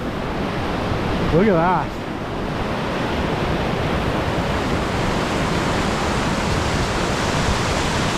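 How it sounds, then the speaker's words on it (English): River rapids roar as water rushes over rock, a loud, constant broadband wash filling the whole stretch, with someone briefly speaking over it near the start. "Look at the water rushing over that rock there."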